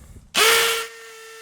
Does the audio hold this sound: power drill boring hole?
yes